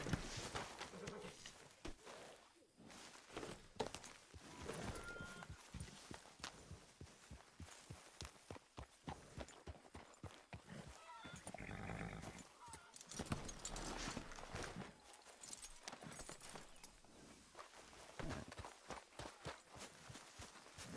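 Horse hooves clip-clop steadily in the Red Dead Redemption video game, a rhythmic run of hoofbeats mixed with game sounds and voices talking over them throughout.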